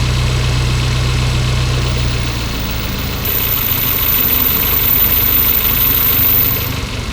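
A car engine idles steadily and loudly close by after being rebuilt, a continuous rumbling drone with vibration and a slight shift in tone partway through.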